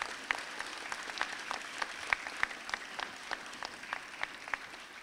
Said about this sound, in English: I think they deserve a round of applause for getting that done.